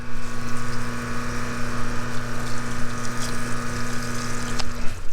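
A steady spray of water from an opened-up spray gun floods a vehicle's panels while a pump hums constantly underneath, continuous and fairly close for several seconds before cutting off near the end.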